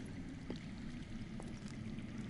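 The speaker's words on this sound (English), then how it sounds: "That's water. I hear water. From underground." Faint, steady rush of underground flowing water in a Game of Thrones video game, with a low rumble underneath, continuous and distant-sounding.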